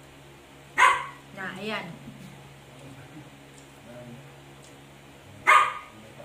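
A pet dog barks in two sharp, loud bursts a few seconds apart indoors at home, with people talking in Filipino around it.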